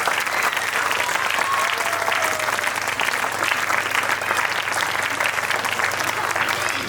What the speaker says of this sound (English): Please may I request all of you to clap with our children.